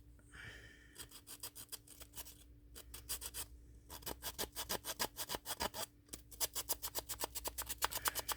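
A resin Christmas ornament being sanded by hand, making rapid, rhythmic scratchy strokes close up that pause briefly and then speed up into a fast, even back-and-forth rasp.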